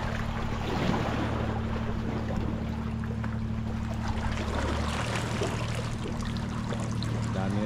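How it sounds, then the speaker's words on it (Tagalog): A boat passes on open water, its steady engine drone humming continuously beneath a constant wash of waves and wind, with no talking. "May bangka na namang dumaan."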